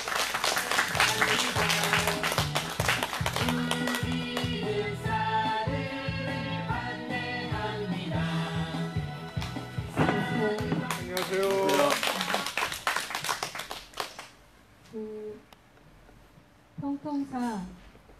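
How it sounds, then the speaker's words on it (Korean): An audience at a rally claps over a sustained run of rapid, dense hand claps, with a host speaking over the start. The clapping thins out and then stops near the end. "자, 많은 박수 필요합니다."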